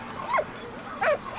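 Dog in the Valiant Hearts video game giving two short, whiny yipping barks about half a second apart, clear and close, with faint background ambience.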